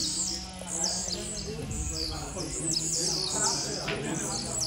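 Tiziu birds sing at a bird tournament: many quick, high chirps and trills repeat through the scene under people talking nearby.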